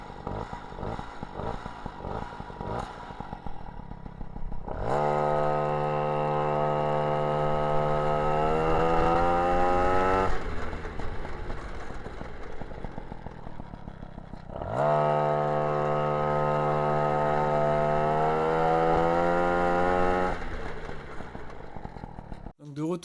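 A small two-stroke MBK 51 Magnum moped engine, being tested after a clutch adjustment, idles roughly, then revs up hard and holds a high whine for several seconds, drops back, and revs again.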